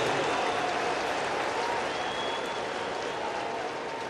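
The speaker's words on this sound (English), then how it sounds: "And listen to this crowd here." Crowd noise at a Giants versus Cardinals baseball game, a broad steady roar of cheering and clapping across the stadium, heard from a distance and holding level throughout.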